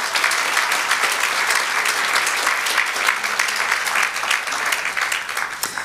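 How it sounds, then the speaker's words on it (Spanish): A church congregation claps together in sustained, even applause, many hands filling the room with a continuous patter for the whole stretch. "Demos un aplauso al Señor"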